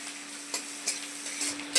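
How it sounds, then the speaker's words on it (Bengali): Chopped onion sizzling in oil in a pan for a cabbage and egg dish, a soft steady fry with a few brief scraping stirs of a spatula scattered through, close and fairly quiet. "পেঁয়াজটা একটু ভাজা ভাজা হোক"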